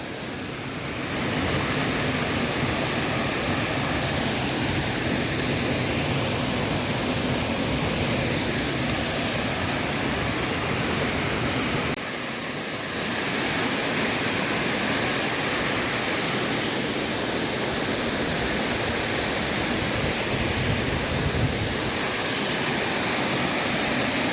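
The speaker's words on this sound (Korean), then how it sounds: "폭포가 시원해졌네" Steady, full roar of an autumn waterfall in Chilseon Valley on Jirisan, a dense continuous rush of falling water that fills the whole stretch with only a brief dip midway and no voices.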